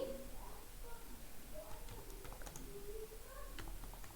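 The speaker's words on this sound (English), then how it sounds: "To whom you want to send, you will be typing their email ID." Light, irregular tapping of keys on a computer keyboard, faint and close, with a voice speaking over it.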